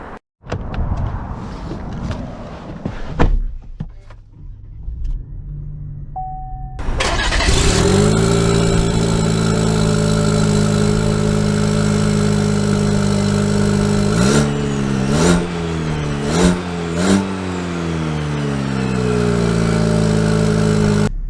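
A 2022 Chevy Silverado 1500 Custom with the 2.7-liter turbo engine starts with a whir, then settles into a loud, steady engine drone heard from inside the cab, with a few rising and falling revs as it pulls away.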